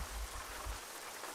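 Rain falls steadily in Euro Truck Simulator 2 at night, a soft continuous patter of drops on a surface, evenly spread with no talk.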